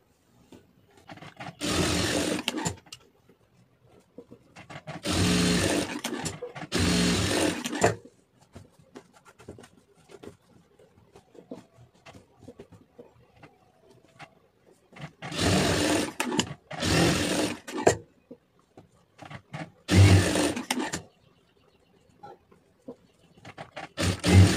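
A sewing machine stitches darts on a lined blouse in several bursts of whirring, each a few seconds long, separated by quiet gaps with faint handling noises.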